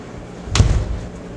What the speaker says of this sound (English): I now insert the probe into the center of my pork roast and I close the door.